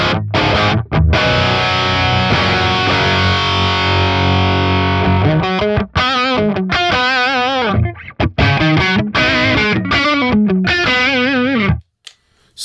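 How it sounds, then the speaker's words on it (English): An electric guitar played straight into a VX Kraken amp at gain 1, loud crunchy distorted chords and riffs with sustained notes, brief pauses between phrases, and a short silence near the end. "Straight in, this is the sound of the guitar into the Kraken"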